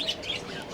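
Colorful aviary birds at a zoo chirping in quick, faint high tweets over a soft background hum.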